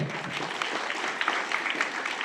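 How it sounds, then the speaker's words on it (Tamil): Audience clapping at an education welfare event held in a temple hall, a steady wash of many hands with denser bursts, fairly loud and continuous throughout. "கைத்தட்டல் பத்த மாட்டேங்குது"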